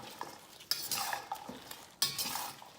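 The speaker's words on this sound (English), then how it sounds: "Give that a mix." Chopped habanero peppers being stirred and mixed in a container for pickling, with a few scraping, rustling strokes in quick succession, close and fairly loud.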